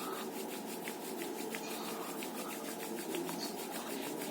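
Palms in a prayer position rub gently and steadily at the centre of the chest during a beginner yoga warm-up, a soft continuous brushing that is faint and close.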